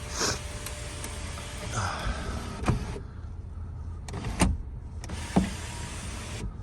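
A 2006 Toyota RAV4's power sunroof motor whirs steadily while closing, broken by a few soft clunks as the panel moves and stops, heard close up inside the vehicle.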